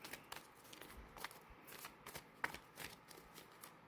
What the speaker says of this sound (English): I will shuffle a few more times just to see if energy wants to tell us anything else